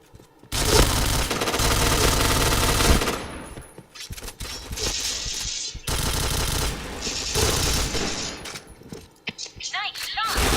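Dense, loud automatic gunfire from the online shooter game PointBlank, sustained bursts broken by short pauses, with a few softer mechanical clicks and brief blasts near the end.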